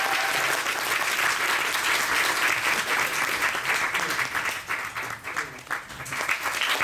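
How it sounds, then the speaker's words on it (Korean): Audience applause at an award ceremony closing a tenth-anniversary parade event: sustained, even clapping from a sizable crowd that holds steady throughout, easing slightly near the end, with a voice briefly heard beneath it. "박수 한번 주세요."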